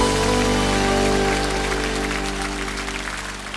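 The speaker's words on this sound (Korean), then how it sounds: "우리 하나님께 영광의 박수 올려드리기 원합니다." A church congregation claps in dense, sustained applause over a held organ or keyboard chord, the clapping gradually thinning and fading toward the end.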